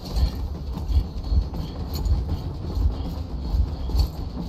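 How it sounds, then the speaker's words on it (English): A train in the Metro Exodus video game runs with a steady low rumble and repeated rhythmic clacks from the wheels, loud and continuous with no voices. "And get this train fucking going."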